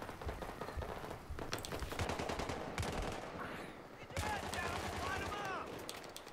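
Gunfire in the shooter game Battlefield 3 crackles in several bursts of rapid shots, with distant battlefield noise filling the gaps; the shots are moderately loud and layered over game ambience.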